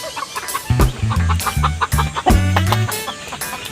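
A pair of pet chickens, a rooster and a hen, cluck in short, loud bursts of repeated calls close by, with brief pauses between the clusters.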